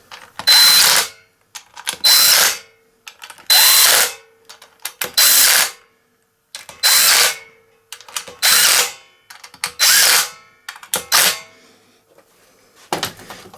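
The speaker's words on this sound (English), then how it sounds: "I shall go around with my 3/8 breaker bar" A 3/8 breaker bar ratcheting on bolts of a Briggs and Stratton 850Pxi engine, giving repeated loud, close bursts of rapid clicking in an even rhythm, each stroke about a second long with short pauses between.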